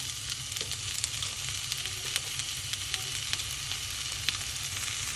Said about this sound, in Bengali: এখন আমি এটাকে খুব সুন্দর করে নাড়াচাড়া দিয়ে এটাকে ভালো করে কুক করে নিব